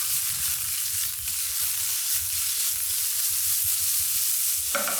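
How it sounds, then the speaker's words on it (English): Fiddleheads and garlic sizzle loudly in a frying pan, a dense, steady hiss and crackle close up that continues without pause. "You want to hear a nice sizzle."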